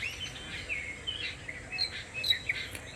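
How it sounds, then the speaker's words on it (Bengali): Birds chirping and calling outdoors in a pleasant open setting, several small scattered tweets and short calls at moderate distance over a quiet background hiss, no voices. "দেখো কত সুন্দর পাখির কোলাহল ডাক"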